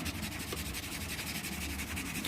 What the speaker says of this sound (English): just sand that a bit